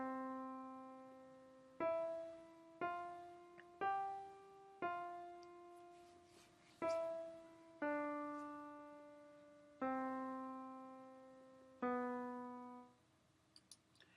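A short melodic motive played slowly in augmentation, every note value doubled, as a series of clear, sustained plucked or keyboard tones with steady decays, quiet and alone without talk.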